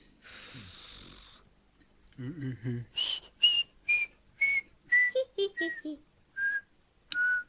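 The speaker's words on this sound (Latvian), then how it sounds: "Svilpojiet vien." Cartoon whistling from the Latvian animated series TU.F.O.: a string of short, bright whistled notes in a halting melody, preceded by a snoring or snorting sound and a low grunt-like voice.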